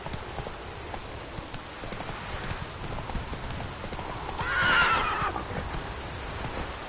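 Roach, the horse in The Witcher 3 video game, clip-clops along at a steady gallop throughout, with a loud neigh rising over the hoofbeats midway before the galloping continues.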